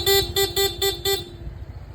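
Stock horn of a Honda PCX160 scooter beeps five times in quick, evenly spaced short blasts, loud and close, then stops, leaving only a low idle rumble.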